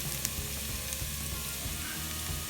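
Soup ingredients sautéing in a pan, an even close sizzle and crackle with faint stirring, steady and unbroken, without voices.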